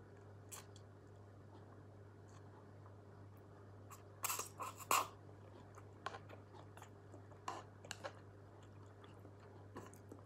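Someone chews and bites into a Hiyoko chick-shaped sweet, giving a few soft, close crunches and mouth sounds over a steady low room hum, with no talking.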